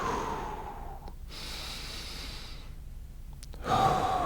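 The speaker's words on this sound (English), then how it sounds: "start taking some big belly breaths" Slow, deep belly breaths, a long audible exhale followed by a drawn-in inhale and a sharper, louder breath at the end, close and alone.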